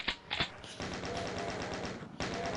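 Chaingunner fire in the classic Doom shooter: a couple of sharp shots, then a rapid, continuous rattling burst lasting over a second, a brief pause, and the stuttering gunfire starting up again, fairly close and loud.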